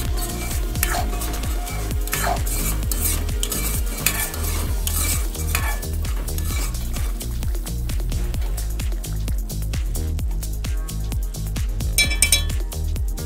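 A spoon stirs sugar into a Bengali pea curry in a pan, repeated scraping strokes and light clinks of metal against the pan over a soft sizzle, close and steady with no talking.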